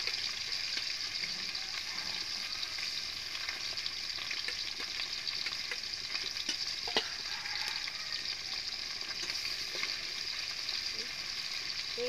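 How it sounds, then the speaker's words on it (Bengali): Bata fish sizzling steadily in hot oil in a home kitchen, a continuous loud crackling hiss with occasional sharper pops and faint utensil touches throughout. "এই উল্টা পাল্টা ভালোভাবে ভাজে নেব।"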